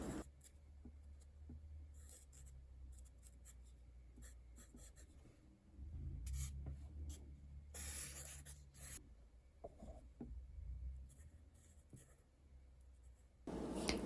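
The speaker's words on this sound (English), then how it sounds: "I'm drawing them in with a black Sharpie marker" A black Sharpie marker drawing on paper for a Christmas card, with soft, close scratchy strokes that come in short bursts and pauses and grow a little louder and rougher midway.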